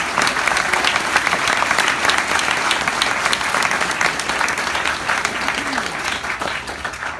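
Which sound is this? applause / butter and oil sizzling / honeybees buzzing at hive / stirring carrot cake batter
applause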